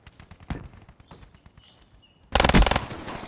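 Gunfire from a burst-fire Sheiva assault rifle in Call of Duty Black Ops 3, with scattered light clicks and short pops giving way to a loud, dense burst of rapid shots near the end.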